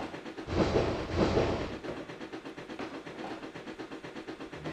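An oil-fired C&O train in Trainz 2022 rolls steadily, its low rumble and rhythmic mechanical chugging holding at moderate loudness, swelling twice early on before settling into a continuous pulsing run.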